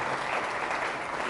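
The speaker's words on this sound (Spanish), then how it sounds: "Fuertes aplausos" A church congregation applauds during a sermon, a continuous, even roar of many hands clapping heard from a slight distance with no voices on top.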